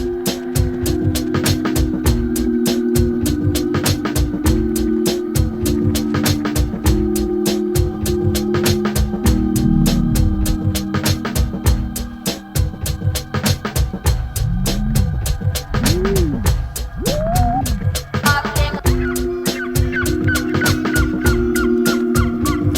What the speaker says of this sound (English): It has a lot of that kind of nature feel to it with the birds squawking.